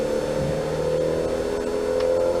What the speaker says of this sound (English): is that a normally aspirated engine in that car? No, it's a 2-litre turbo.